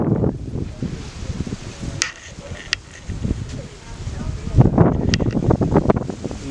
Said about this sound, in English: Hopefully you guys can hear me because it's very windy.